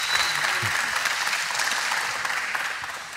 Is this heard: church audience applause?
yes